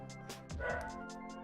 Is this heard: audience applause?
no